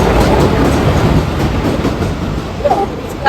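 A train at a railway station produces a continuous loud rumble with rolling rail noise throughout, close by, with faint background sounds of the station.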